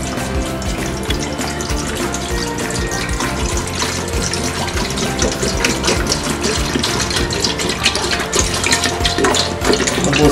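Water is poured steadily from a container into a clean saucepan to make gelatin with evaporated milk, giving a continuous close splashing rush that lasts throughout without any talking.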